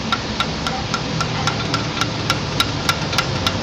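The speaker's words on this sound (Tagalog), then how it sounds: "Tsaga-tsaga lang ang pagpukpok, dahan-dahan." Steady, evenly spaced hammer blows driving a thin king pin bushing into a C-190 truck, about a dozen sharp metallic taps over a low engine-like background hum.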